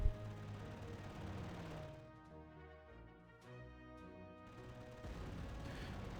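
Aircraft strafing gunfire in a WWII strategy game on the Kiev front, heard as dense, continuous rattling bursts with heavy low rumble and a few sharper cracks, loud and unbroken without any talk.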